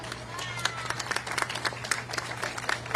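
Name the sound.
applause at press briefing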